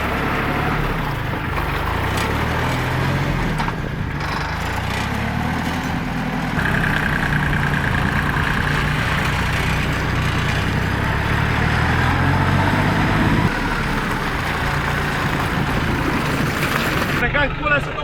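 Small tractor engine running steadily at idle close by, a continuous low rumble with a slight rise partway through, while someone talks over it.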